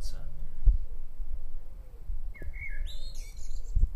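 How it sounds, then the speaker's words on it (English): Several birds chirp and tweet with short bright calls around sundown at a wine estate in Portugal, clustered toward the end, over a quiet background with occasional faint clicks. "And the birds cheeping away."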